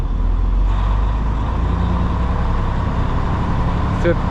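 A semi bobtail truck with a 10-speed gearbox runs loud and close, its engine holding a steady, heavy low rumble while it shifts from 5th to 6th gear, with a faint brief hiss near the end.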